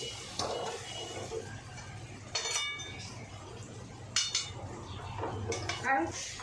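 A ridge gourd and pointed gourd poppy-seed paturi being flipped and stirred in a pan, with clinks and scrapes of a utensil against metal over a faint sizzle.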